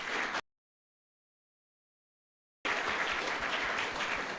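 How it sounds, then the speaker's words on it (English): An audience claps in a college hall at a hospitality career guidance programme, a dense wash of applause cut off by a stretch of complete silence before resuming. "I expected you people to give a good round of applause at the end."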